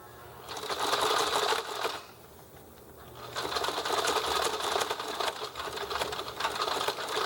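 A sewing machine stitches a waistband in two loud, steady runs of rapid mechanical clatter, separated by a brief pause near the middle.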